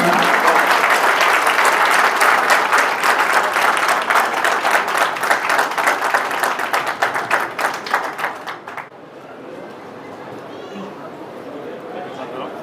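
Loud applause from the audience at a school talent award ceremony in Jaitaran rings out for about nine seconds, then cuts off, leaving a quieter room tone with faint background sound.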